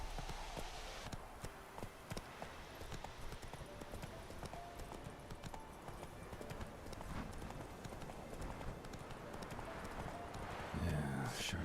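Hooves of the horse Roach pound in a fast, continuous galloping clip-clop in The Witcher 3, fairly quiet and steady, with game ambience and a brief sound burst near the end.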